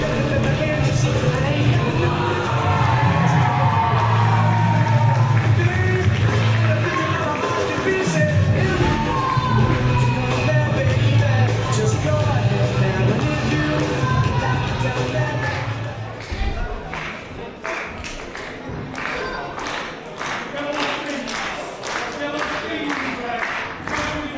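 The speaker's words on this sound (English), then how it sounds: "Adams and Summers being very well received here by the tele crowd" A wrestling crowd at a PWR Pro show cheers and claps beneath commentary, a busy wash of applause and yells that thins out later into scattered clapping and shouts.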